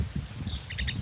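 At a morning feeding spot where snack mix has been scattered, mynas give a brief burst of quick, faint chirps over a low outdoor rumble.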